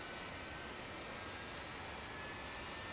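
A Saab Sk 60 jet engine spools up to idle during a cold start in a flight simulator: a steady, fairly faint whining roar with a constant high tone over broadband rush, no voices.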